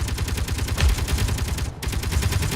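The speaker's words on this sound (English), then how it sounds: "this dude will chase you and shoot you and keep shooting you until his ammo runs out" An enemy in Space Engineers fires rapid, evenly spaced gunshots in a sustained automatic burst, loud and close, with a brief gap near the end before the shooting resumes.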